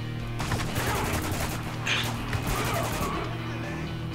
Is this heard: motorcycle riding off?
no